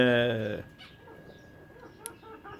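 A loud harmonic cluck or squawk opens, followed by quieter scattered bird calls and clucks from chickens nearby in an ornamental bird reserve.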